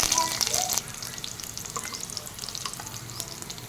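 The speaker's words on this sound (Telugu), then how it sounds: "అదే ఆయిల్లో ఆవాలు, ఎండుమిర్చి, పచ్చిమిర్చి," Mustard seeds, dried red chillies and green chillies fry in hot oil for a bitter gourd masala curry, a steady close sizzle with a burst of crackling spatter at the start.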